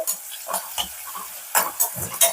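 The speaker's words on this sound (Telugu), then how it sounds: "ఒక రెండు పచ్చిమిర్చి అండ్ ఒక రెండు టేబుల్ స్పూన్ల వరకు ఆనియన్ పీసెస్ చిన్నగా తరుక్కోవాలి వీటిని లైట్గా ఫ్రై చేసుకోవాలి" Chopped onions and green chillies lightly frying in a pan, with bursts of sizzle and repeated spoon stirring strokes at an uneven rhythm, close and moderately loud.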